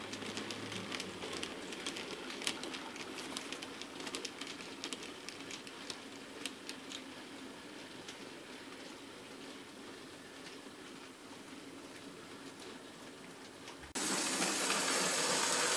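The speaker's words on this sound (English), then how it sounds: "A Class 56XX hauls a through goods through the station" A Class 56XX locomotive on an 00 gauge model railway hauls a goods train steadily through a station with a continuous rolling clatter and faint metallic clicks, mid-distance, with a louder burst of broadband noise near the end.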